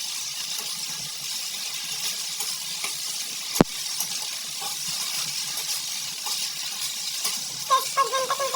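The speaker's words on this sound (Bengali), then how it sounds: "আদা বাটাটা দিয়ে দিয়েছি, এবার ভালো করে মশলাগুলোকে কষিয়ে নেবো।" Spices with ginger paste fry in a pan for a matar paneer ghugni, giving a steady soft sizzle with one sharp utensil clink and light stirring taps near the end.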